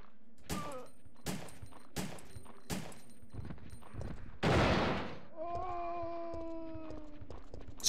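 Video game gunshots: four sharp, evenly spaced single shots crack out, followed by a louder burst of noise and a lingering ringing tone, with faint background sound between.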